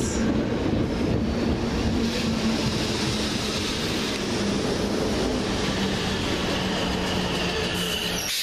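A Southern Railway class 455 electric train on the Beckenham Junction to London Bridge service runs through West Norwood with a loud, steady rumble of wheels and motors and a faint tonal whine, continuous from start to finish.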